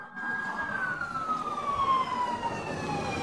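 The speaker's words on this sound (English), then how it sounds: "Police car." A police car siren on a residential street in Farnborough, Kent, a single sustained wailing tone gliding slowly downward over steady road rumble, moderately close.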